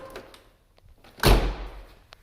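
A 1996 VW Jetta door swings shut with a single solid thunk midway through, after a few faint clicks and taps from the latch, then a short fading rattle.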